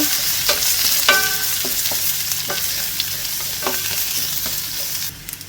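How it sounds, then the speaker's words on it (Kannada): Chopped garlic fries in a pan of hot mustard oil toward golden brown, a loud, continuous sizzle with a few light clinks of stirring, fading out at the very end. "ಬೆಳ್ಳುಳ್ಳಿ ಗೋಲ್ಡನ್ ಬ್ರೌನ್ ಬರುವವರೆಗೆ ಇದನ್ನು ಫ್ರೈ ಮಾಡಿಕೊಳ್ಬೇಕು"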